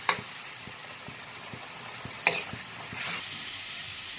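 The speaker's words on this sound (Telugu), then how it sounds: "అడుగంటకుండా మనం ఇట్లా కలబెట్టుకుంటూ ఉండాలి, లేకపోతే ఇది మాడిపోతుంది, ప్యాన్ అంతా అంటుకుంటుంది ఇది" Tomato and ginger-garlic paste frying in a pan for a cauliflower veg biryani, stirred steadily with soft scraping taps and a constant low sizzle, with a brief brighter hiss burst midway; no talking.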